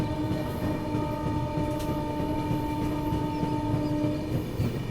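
The Barauni New Delhi Clone Special train runs on rails at speed, giving a steady, loud rumble with a continuous hum and faint rhythmic clatter, heard from inside.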